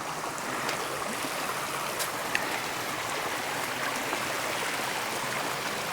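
Steady broadband rush of stream water flowing over a rocky canyon crossing at Murray Canyon, continuous and fairly close with no voices.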